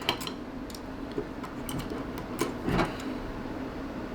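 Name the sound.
unscrewing final retaining screw from hard disk drive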